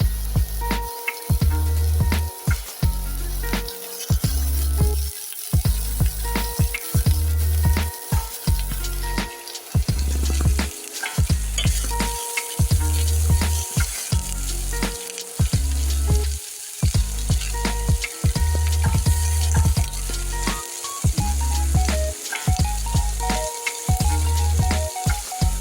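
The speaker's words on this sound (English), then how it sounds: "Keep stirring. Remember, I put ghee first, then I put little cooking oil." Garden eggs frying in ghee and cooking oil, sizzling loudly and continuously while a spoon stirs them in repeated scraping strokes, close and without any speech.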